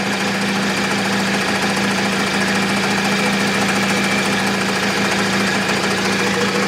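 A restored 1971 Harley golf cart engine idles, a loud, rough, steady mechanical chug with a knocking pulse and a constant hum, close up and uninterrupted, no talk.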